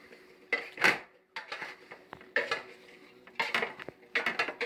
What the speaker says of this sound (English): Stir it around nice and good.